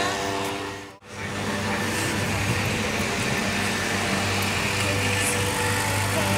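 A leaf blower runs with a steady, loud engine drone held throughout, outdoors at the Aparecida shrine near the Porta dos Pastores, with a brief dropout near the start.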